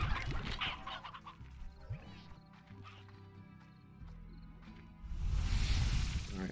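Chickens clucking in the video game Slime Rancher, a few short clucks mixed with game sound effects and footstep-like thuds, ending in a louder burst of noise.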